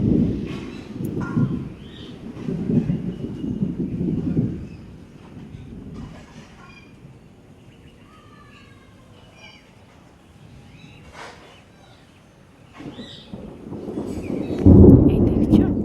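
Deep rolling thunder grumbles in long waves before rain, loud at first, fading to a quiet stretch, then a heavier rumble swells near the end.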